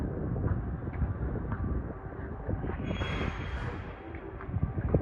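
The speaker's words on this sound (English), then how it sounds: "Wow, battery electric train." A battery electric train passes Mineola station at night, a low rolling rumble with rhythmic clunks and a brief high whine midway, fairly close and unaccompanied by talk.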